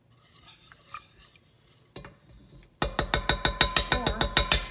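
Cheese sauce gets stirred in a pot on a simmer, quiet at first, then a loud rhythmic run of about a dozen spoon scrapes against the pot.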